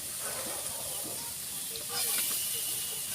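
Green peas sizzling and hissing in a hot pan for matar rice, a steady close frying crackle that swells slightly near the end.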